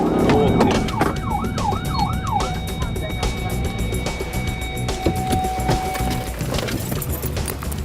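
Police car siren wailing during a traffic stop, a fast rising-and-falling yelp cycling several times before settling into a steady tone, loud and close over road noise and engine rumble.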